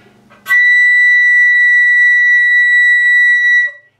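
A single loud, piercing, flattened third-octave flute note played with an alternate fingering sounds after a brief lead-in and holds steadily for about three seconds before cutting off.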